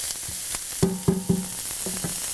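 Onions sauteing in a pan for a pasta cream sauce, a steady close sizzle with several sharp clinks and scrapes of a utensil stirring through them, no voices.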